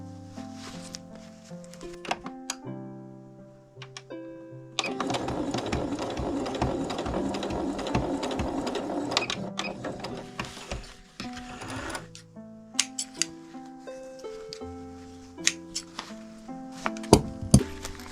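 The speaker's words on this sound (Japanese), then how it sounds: "こちらも同じように表から5ミリのところを縫っていきます。" A sewing machine runs in bursts while stitching a patchwork pouch 5 mm in from the right side. The steady mechanical whir and clatter is close and prominent, and quieter clicks and handling noises fall between the runs.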